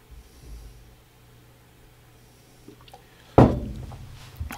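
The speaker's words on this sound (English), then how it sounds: "going to blow his nose" After a stretch of near quiet, one sharp, loud nose blow bursts out close by, then trails off with a short snuffle.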